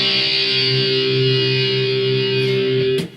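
A distorted electric guitar plays a verse riff with sustained, ringing chords, loud and alone, ending with a brief pick or string noise.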